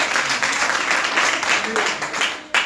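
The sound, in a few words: congregation applause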